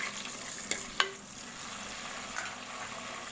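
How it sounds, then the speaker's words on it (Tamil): Steady soft sizzling of small onions sautéing in oil in a pan, with a couple of brief clinks of a utensil stirring. "நல்லா வதங்கட்டும்"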